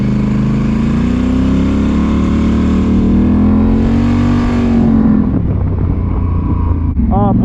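Polaris Sportsman ATV engine running loud and steady with rising revs, the tone climbing and holding before dropping to a rougher idle near the end, with a voice briefly over it.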